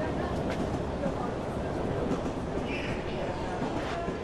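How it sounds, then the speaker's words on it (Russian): Suburban electric commuter train heard as a steady, loud rumbling rolling noise with faint clatter throughout, continuous and close, with a voice speaking over it. "Поехать на дачу в электричке"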